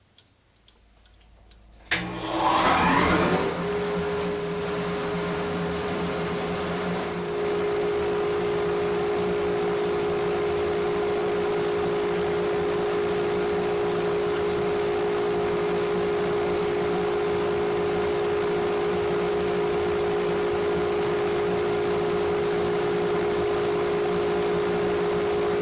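Metal lathe turning a pepper mill workpiece with its carriage feeding toward the chuck, a steady mechanical drone with a sustained tone and faint ticking, starting with a sharp clunk and running on alone at moderate level.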